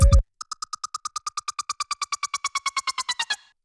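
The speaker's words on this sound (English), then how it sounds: "I will quickly go over this lead synth." A short lead synth stab from a remake, followed by a rapid, evenly pulsed run of about two dozen bright, buzzy staccato notes that hold steady and then stop cleanly.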